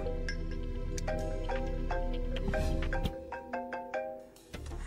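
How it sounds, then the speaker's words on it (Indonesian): A phone's ringtone chimes in a repeating melodic pattern of bright tones, fairly close and clear with no talking over it, then breaks off near the end. "Bel, telepon kamu bunyi tuh."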